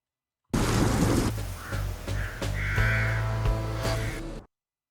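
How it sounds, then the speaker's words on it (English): Several crows cawing at a distance over a steady rumbling background, harsh calls spaced irregularly with a couple of longer caws. "so let's put the crows somewhere here in this scene."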